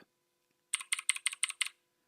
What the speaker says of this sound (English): it is a mechanical keyboard. It's a 33 euro mechanical keyboard